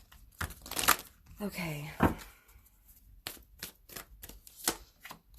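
Oracle cards are shuffled by hand in several quick, crisp riffling bursts, close and fairly quiet, with a short spoken word in between.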